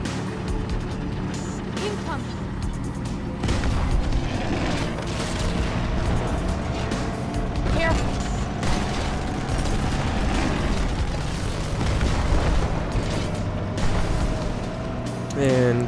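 A tank in Halo 2 Anniversary rumbling along on the Delta Halo level, its engine drone continuous with repeated heavy cannon booms and gunfire bursts amid the battle din.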